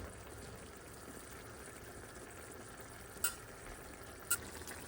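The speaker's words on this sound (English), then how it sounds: "Okay, it's boiling nicely." Thick jajangmyeon sauce for Korean noodles boils in a pot, a steady soft bubbling and sizzling hiss broken by two sharp clinks from the stirring utensil.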